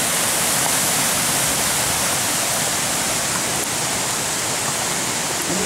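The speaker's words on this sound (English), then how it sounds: "We're riding along Chestnut Creek." Steady rushing flow of Chestnut Creek, a creek feeding the New River, heard along a riding trail; a continuous, loud, even wash of water with no voices.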